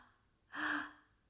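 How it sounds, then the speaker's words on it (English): A single exaggerated breath during a relaxation breathing exercise: one close, deliberate airy inhale swelling and fading over about half a second in an otherwise quiet space. "You might hear me kind of exaggerating the breath just so you can hear the breath"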